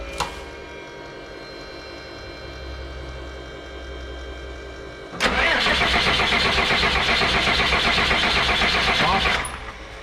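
A 2001 Freightliner bus engine cranks loud and steady for about four seconds after a stretch of quieter background hum, then cuts off abruptly when the starter stops.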